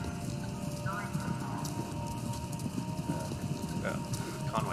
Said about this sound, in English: Sounds like horses. Horses running